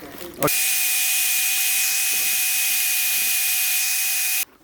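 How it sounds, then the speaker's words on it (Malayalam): A power tool polishing a homemade dragon slingshot, a loud steady high whine and hiss that starts abruptly and runs about four seconds before cutting off. "ഇനി നമുക്ക് ഇതൊന്ന് പോളിഷ് ചെയ്തെടുക്കാം"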